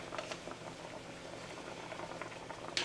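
Braised catfish liquid boils in a pan with soft bubbling and popping patter at a steady low level, and a brief sharper clink comes near the end.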